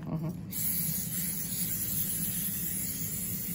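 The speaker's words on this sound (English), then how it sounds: "We're gonna spray this with some baking spray." Baking spray hisses from an aerosol can onto a baking pan in a home kitchen, one steady continuous spray lasting a few seconds with people talking faintly nearby.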